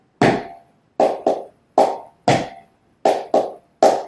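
Sharp flamenco palmas hand claps in a sparse tangos rhythm, accenting the fourth beat, some in quick pairs, close and dry with silence between them.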